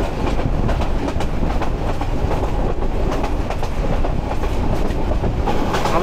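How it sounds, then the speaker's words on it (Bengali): The Sagarika commuter train rolls along at good speed, with a steady rumble of carriages and a continuous rhythmic clatter of wheels on the rails, heard from on board. "আমাদের সাগরিকা কমিউটারের স্পিড কিন্তু খারাপ না, যথেষ্ট স্পিডে যাচ্ছে।"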